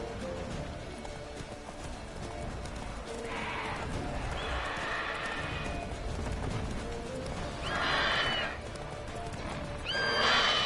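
Roach, Geralt's horse in The Witcher 3, gallops with steady clip-clop hoofbeats and lets out several loud whinnies, two of them sharp near the end, with no one talking.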